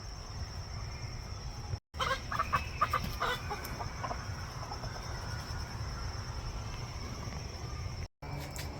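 Chickens cluck and murmur nearby in a steady, busy chatter while eating apples, with insects buzzing faintly and continuously in the background.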